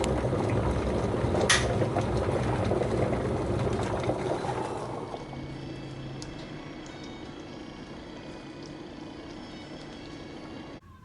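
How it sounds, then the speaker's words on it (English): Steady rush of boiling water poured over duck skin, streaming and splashing for about five seconds, then cutting off to a quieter hiss and faint background hum. "Pour boiling water over the duck, skin side up, all over"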